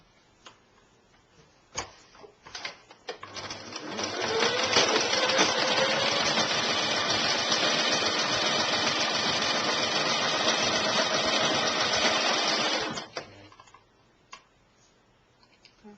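A domestic sewing machine stitches a maxi dress in one steady, loud run of about nine seconds. Its motor whirs and taps evenly, with a few soft clicks and handling noises before the run and after it stops.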